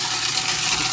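Cold tap water runs in a thin, pencil-sized stream into a stuck garbage disposal being cleared with ice, a steady broadband rushing hiss that stays level throughout with no talking.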